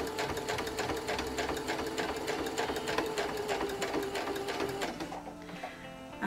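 A sewing machine stitches along a fabric edge with a fast, even mechanical chatter. It runs close and steady for about five seconds, then stops.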